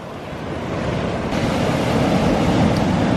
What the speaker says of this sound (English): So here comes a decent wave